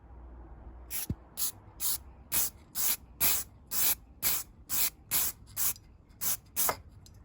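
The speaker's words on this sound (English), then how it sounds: "I just spray it on until it's entirely base coated" Eleven short bursts of aerosol matte black lacquer spray hiss in a steady rhythm, each about half a second long, close and fairly loud with brief pauses between.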